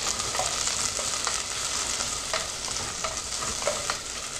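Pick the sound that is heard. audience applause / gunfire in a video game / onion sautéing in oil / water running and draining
onion sautéing in oil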